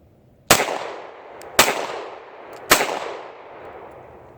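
Three sharp, loud shots from a CZ P01 Tactical Urban Grey compact pistol, fired at even intervals about a second apart, each trailing off in a short echo.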